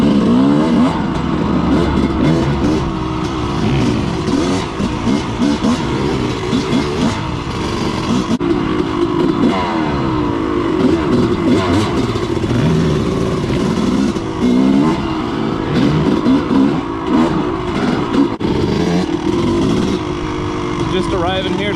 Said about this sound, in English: So this is Ethan's first time on a bike out here in Tahuya